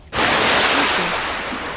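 A character plunges into a river in a horror video game, giving a sudden loud splash followed by a sustained rushing wash of water that slowly fades over about two seconds.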